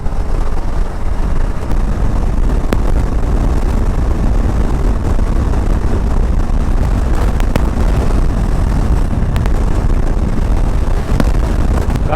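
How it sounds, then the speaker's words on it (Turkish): Loud, constant wind buffeting the microphone while riding a motorcycle, a rough low rumble that never lets up for the whole stretch. "Çok rüzgar esiyor ya."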